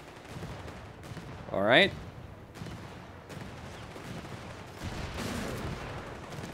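Sniper fire in the World War II strategy game Company of Heroes 3, Italian partisan campaign: a single sharp, loud rifle crack stands out amid quieter background battle noise, with someone speaking briefly.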